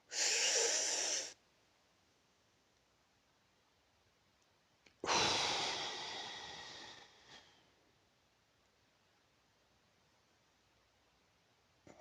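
Slow breathing exercise using four-count breaths: a loud, close exhale of about a second, a long pause, then a longer breath that gradually fades, followed by quiet.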